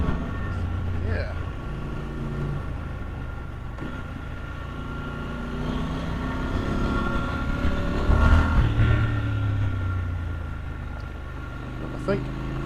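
A 2023 Triumph Scrambler 1200 XC motorcycle rumbles steadily while being ridden, its engine droning beneath wind noise, with a rider talking over it and the engine swelling briefly louder near the end.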